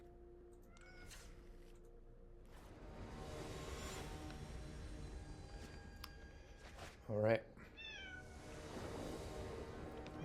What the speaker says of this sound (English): Cat's howling over there.